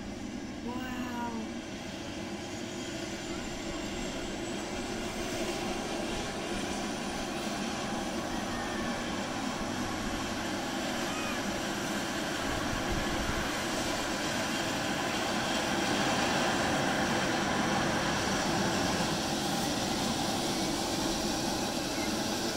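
A loud, steady air ambulance engine roar builds slowly as it starts up, a broad whooshing drone with a faint rising whine that holds without a break.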